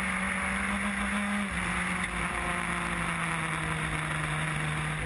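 A race car climbing a steep hill through a fast left kink at Oulton Park circuit, its engine a loud, steady onboard drone with a sustained pitch that dips slightly partway through, continuous and alone.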